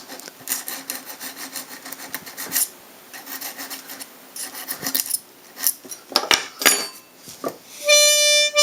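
A metal file rasps against a small toy accordion reed in quick close strokes, a dry scratchy scraping that stops and starts, ending with a short bright test tone from the reed.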